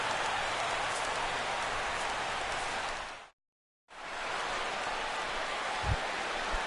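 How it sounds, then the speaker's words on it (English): Rain falling at a Mariners baseball game, a steady broad hiss of heavy rainfall that cuts out briefly midway and then resumes, with a faint thump near the end. "as the rain continues to fall here"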